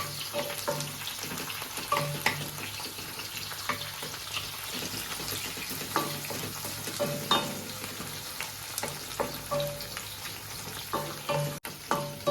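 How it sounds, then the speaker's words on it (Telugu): Curry leaves stirred into oil in a frying pan while making a ridge gourd curry with milk, giving a steady close sizzle with repeated scraping stir strokes throughout. "కరివేపాకు వేసుకోవాలి. వేసుకొని ఒకసారి కలుపుకోవాలి."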